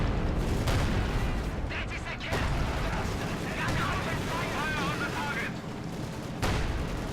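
Stuka dive-bomber strikes in a war video game set off a dense run of booming explosions and rumbling gunfire, loud and continuous, with a player talking over the battle noise.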